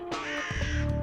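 A single crow gives one harsh, close caw that rings out alone, clear and fairly loud against a quiet background.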